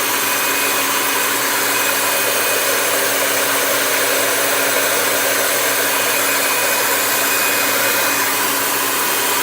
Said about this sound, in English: Sometimes you gotta bring out the big hair dryer to get it done